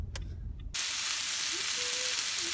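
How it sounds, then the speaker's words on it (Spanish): Bacon-wrapped hot dogs start frying in a hot pan with a sudden loud, steady sizzle that hisses on without a break, close up, following a moment of quiet kitchen handling. "acá ya de este lado andamos cocinando unos, van a hacer unos hot dogs con bacon"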